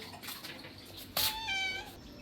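A cat gives a single clear meow, drawn out and fairly close, against quiet background noise.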